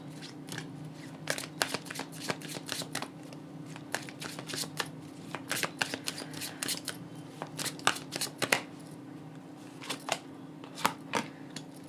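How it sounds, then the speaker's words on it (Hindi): Tarot cards are shuffled and riffled close and quietly in a series of quick, irregular crisp flutters and snaps over a faint steady hum, with no one talking. "यहाँ से भी मैं 2 कार्ड निकाल लेती हूँ आपके लिए।"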